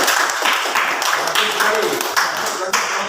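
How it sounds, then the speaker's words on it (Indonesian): Classroom students clapping for a correct answer during a lesson, a scattered patter of claps mixed with chatter and voices throughout, fairly close and lively. "Oke, baik, tepuk tangan untuk jawaban nomor"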